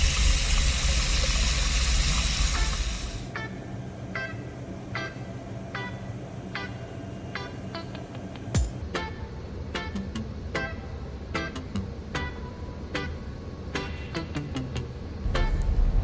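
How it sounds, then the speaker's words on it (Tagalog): A fresh water generator (distiller) runs in a ship's engine room. It makes a steady mechanical whir with water rushing, plus a regular ticking and clicking, loud and continuous. "Ito ang tinatawag na fresh water generator or distiller."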